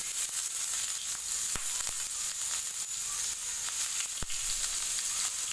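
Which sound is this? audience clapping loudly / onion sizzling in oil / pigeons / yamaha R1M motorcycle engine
onion sizzling in oil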